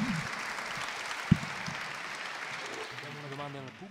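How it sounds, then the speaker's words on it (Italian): Warm applause from a comics festival audience welcoming a guest cartoonist, a steady crowd clapping that carries on while voices start speaking near the end. "Vi prego un caloroso applauso"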